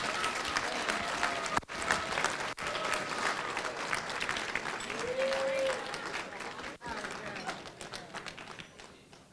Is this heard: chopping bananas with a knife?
no